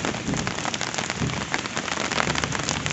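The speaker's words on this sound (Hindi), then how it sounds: "बारिश एकदम से तेज हो गई।" Heavy rain pours steadily onto surfaces during a storm at a home in Siwan, Bihar, a loud, dense, continuous hiss of drops and patters, close and unbroken, with no talking.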